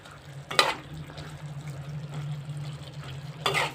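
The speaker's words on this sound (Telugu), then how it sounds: "కొత్తిమీర కూడా మంచిగా కలిపేసుకొని" A spoon stirs coriander into a cauliflower curry in a pan, making two short scraping swirls a few seconds apart over a steady low hum, with no talking.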